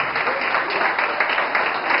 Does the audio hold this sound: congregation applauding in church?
yes